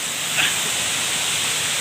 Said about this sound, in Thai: เราก็ตามผู้ที่รู้ทางมาถึงน้ำตกใหญ่แล้วครับ